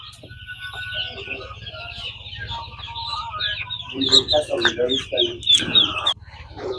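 Broiler chickens in a poultry shed cluck and chatter continuously, the calls growing denser and louder toward the end over a steady low hum.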